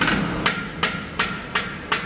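A hammer taps sheet metal off-dolly during custom metal shaping, giving five sharp, evenly spaced metallic strikes about a third of a second apart, close and loud over a faint background hum.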